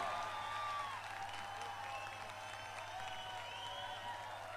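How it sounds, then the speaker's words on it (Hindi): At a worship concert, an audience applauds and calls out to welcome comedian Johnny Lever on stage, a steady wash of clapping with drawn-out cheering voices over it. "तो आइए, जिसका आप इंतजार कर रहे हैं, तालियों की गड़गड़ाहट के साथ उसे अपने दरमियान बुलाए हैं, भाई जॉनी लीवर।"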